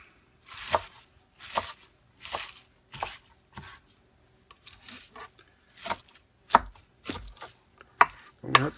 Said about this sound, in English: Chop it up a little bit, gather it all in a bunch.